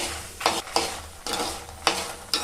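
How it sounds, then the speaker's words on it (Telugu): Ingredients for gongura chutney stirred and frying in a kadai over medium-low flame, a soft steady sizzle broken by several louder scraping stirs at an even rhythm, with no voices. "ఇవన్నీ కూడా మీడియం టు లో ఫ్లేమ్లో మాత్రమే వేయించుకోండి"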